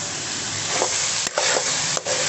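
Large cut potato pieces fry in a pan for aloo keema, a steady close sizzle with a couple of brief scraping stirs breaking through.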